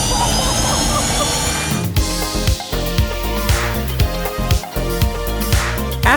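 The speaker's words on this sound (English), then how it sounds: "en este momento estamos encendiendo los motores" Fighter jet engines starting up, a loud roaring, whining engine drone with steady tones and repeated rhythmic thumping pulses filling the whole stretch.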